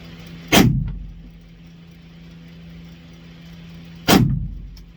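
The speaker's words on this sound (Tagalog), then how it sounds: "Loaded, ready." Two sharp firearm shots ring out at a firing range, about three and a half seconds apart, each loud and close with a short decaying tail over a low steady hum.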